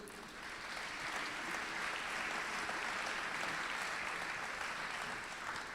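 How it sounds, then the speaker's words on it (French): Audience applause fills an award ceremony hall as a digital development trophy is presented, a steady, dense clapping that swells quickly and holds evenly throughout, with no speech over it. "On peut vous applaudir."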